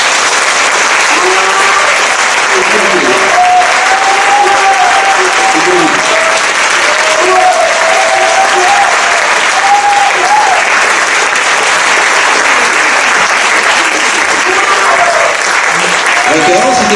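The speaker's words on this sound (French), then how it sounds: "applaudissez-les bien fort." A concert audience applauding loudly, a dense, sustained wash of clapping from a large crowd that continues without a break and keeps an even level throughout.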